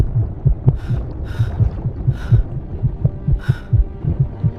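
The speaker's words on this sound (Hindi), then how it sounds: "दिल की धड़कन कानों में गूंज रही थी" Heartbeat sound effect in a wartime documentary, a loud, steady, close thudding pulse in regular double beats, with a low hum and faint tones behind it.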